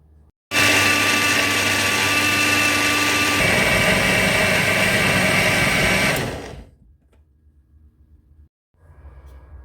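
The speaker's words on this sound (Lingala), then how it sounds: "Sikoyo nakati nyonso matungulu, poireau, poivron, na courgette, naotia yango na mixeur." An electric blender whirs loudly and steadily through onions, leek, bell pepper and courgette, its pitch dropping partway through, then spins down and stops, followed by faint kitchen noise.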